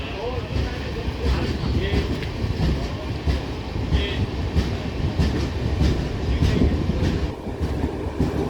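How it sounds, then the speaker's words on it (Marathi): A Diva passenger train departs on the adjacent track beside the Jan Shatabdi Express, giving a continuous close rumble of wheels and carriages with rhythmic clicking and faint squeal, loud and sustained throughout. "साईड बाय साईड आपली दिवा पॅसेंजर पण डिपार्ट झाली आहे"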